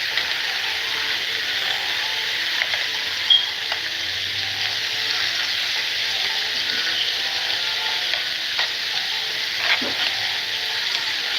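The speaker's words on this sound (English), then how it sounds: "See how the onions is frying with it?" Onions sizzle and crackle steadily in a hot pan, a constant frying hiss with a few small clicks and scrapes, no talking.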